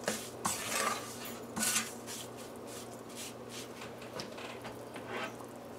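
A spoon clinks against a bowl while guruma ingredients are mixed together. The scraping and tapping is fairly close, comes in irregular strokes and is loudest near the start, with no talking.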